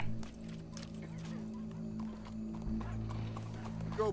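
Horse hooves clip-clop in the video game Red Dead Redemption 2, a steady patter under a low droning background, with a faint whinny and no clear talk.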